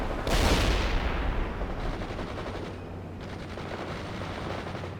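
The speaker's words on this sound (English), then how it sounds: "A machine gun is ready." Machine gun fire in the World in Conflict strategy game, a loud burst of rapid shots at the start that fades into a steady rumble of continuing battle noise without speech.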